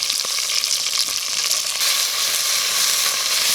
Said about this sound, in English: Get it sear on the other side